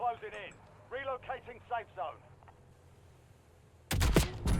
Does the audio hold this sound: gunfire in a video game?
yes